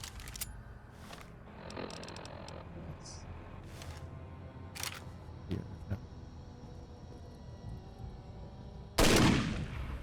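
Rifle gunfire in the Fallout New Vegas video game, heard as a few sharp, scattered shots over a low game backdrop, with one louder burst near the end.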